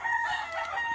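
A gamecock rooster crows from a fighting-cock pen, a brief strained tonal call heard at moderate distance without speech.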